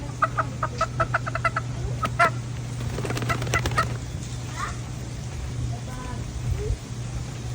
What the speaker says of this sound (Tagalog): meron akong 6 na native chicken or Bisaya na manok